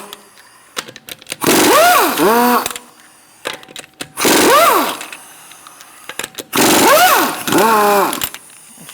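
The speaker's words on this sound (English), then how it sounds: "Using a 19mm socket, we're going to remove our lug nuts." A power tool with a 19mm socket removes lug nuts from a Buick Encore wheel in three loud bursts, each whirring up and winding down in pitch, with quieter clicks and handling noises in between.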